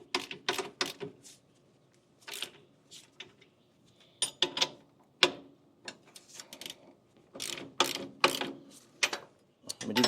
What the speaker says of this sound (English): we need to loosen up our locking nuts here on the adjustment plates